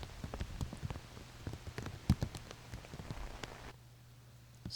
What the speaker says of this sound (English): as the rain begins in earnest